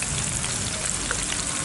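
Crushed onion frying in hot herbal hair oil, a dense, even crackling sizzle that stays close and fairly loud for a brief moment, with no voices.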